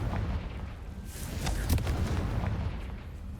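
A Confringo fire spell blast cast during combat in the game Hogwarts Legacy bursts out as a sharp explosive crack with a rumbling boom, set against steady low game ambience with no talk.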